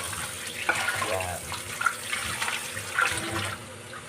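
Running tap water at a kitchen sink during washing up, a steady splashing flow with intermittent clinks and knocks of items being rinsed, fairly quiet and close.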